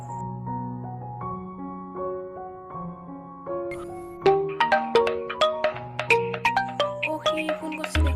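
A mobile phone ringtone plays for an incoming call, a melodic electronic tune of sustained tones that shifts into quick plucked, bell-like notes, clear and close, with no talk over it.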